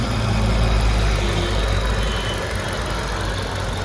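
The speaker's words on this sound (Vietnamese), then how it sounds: "Đấy, máy đang nổ thôi này." A 1.4-litre engine in a 2011 Hyundai i20 idles steadily with a low, even rumble and a faint high whine on top, close and loud throughout with no talking.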